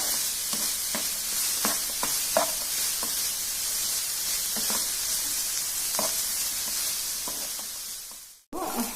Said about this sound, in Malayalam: സവാള നല്ലപോലെ വഴണ്ട് വന്നിട്ടുണ്ട്.